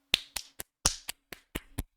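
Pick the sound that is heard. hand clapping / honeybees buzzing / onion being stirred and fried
hand clapping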